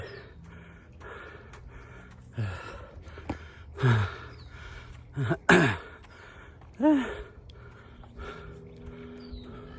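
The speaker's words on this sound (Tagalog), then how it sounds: "Ay, hinihingal ako" A woman out of breath on an outdoor walk gasps and pants heavily in several loud, close breaths spaced by quieter moments, with faint outdoor ambience and distant bird-like sounds.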